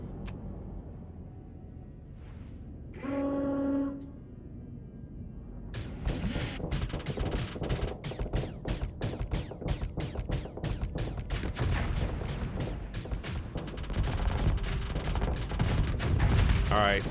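Dense volley of weapon fire in the Starsector Nexerelin space combat game, rapid repeated bursts and booms filling the scene loudly after a brief tonal chime, sustained rattling impacts continuing to the end.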